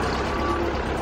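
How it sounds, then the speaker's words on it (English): A digger's heavy engine drones steadily, close and loud, with a faint tonal beep riding over the rumble for about a second. "Digger."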